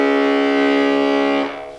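A bayan accordion sounds a single powerful, sustained bass note with rich harmonics, held steady and loud for about a second and a half before it cuts off.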